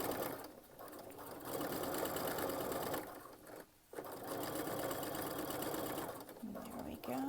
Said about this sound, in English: Back stitching over the seam.